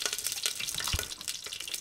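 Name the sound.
melting candle wax popping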